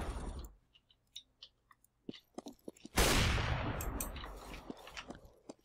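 Gunfire in Counter-Strike GO, a string of sharp isolated shots and clicks followed by a louder burst of shooting and a lingering noisy wash, then more scattered shots, heard fairly close.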